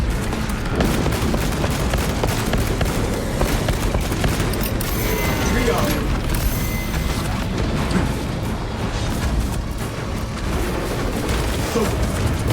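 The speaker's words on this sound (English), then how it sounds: "Frag grenade in." Dense, continuous battlefield din from Warhammer 40K: Space Marine 2, with sustained gunfire and booming frag grenade blasts rolling over each other, a heavier crashing burst near the middle, loud throughout.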